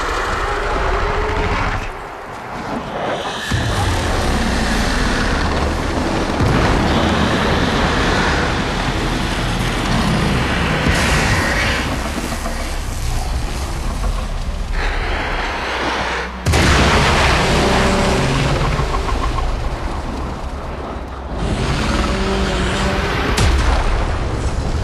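A massive explosion rolls through a Warframe game scene, booming and crackling debris layered in dense, loud bursts that swell and recede over a long stretch, with sharp new blasts partway through.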